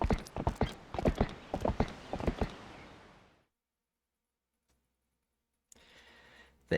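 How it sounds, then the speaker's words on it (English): Horse hooves clip-clop in a quick, steady rhythm in Zelda: Twilight Princess, loud and close for a few seconds, then fade into silence before a brief burst of game sound. "They give you spurs instead of carrots to make your horse go faster."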